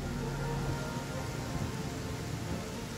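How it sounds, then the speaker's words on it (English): Steady rain hisses and patters throughout a scene in the video game Afterparty, a dense continuous wash of sound with no voices. "I thought the rain would hurt."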